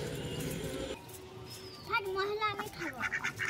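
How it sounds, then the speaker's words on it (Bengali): Ducks quack repeatedly as they peck at a thrown meat bone, a cluster of nasal calls rising after a quieter opening with some background noise. "এই যে একটা মাংস হাড় ছুঁড়ে দিয়েছি, হাঁসগুলো ঠুকিয়ে ঠুকিয়ে খাচ্ছে দেখো"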